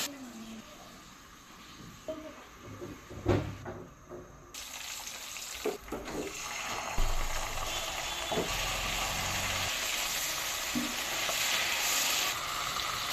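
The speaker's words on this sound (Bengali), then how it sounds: "মাছ ভাজি হয়ে এসেছে উঠিয়ে নেব" Small fish frying in hot oil in a home kitchen give off a continuous sizzle, with occasional clinks and stirring scrapes of a utensil in the pan.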